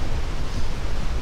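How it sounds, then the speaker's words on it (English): Steady, loud wind rushing and buffeting, a broad low roar with no voices. "It's still windy, not as windy."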